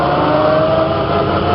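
A 1927 Packard 443 engine runs steadily while the driver double clutches, giving a loud, continuous mid-range drone with a faint whine riding on it and no break in the sound.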